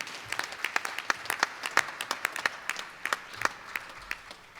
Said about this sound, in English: So I always give him a round of applause.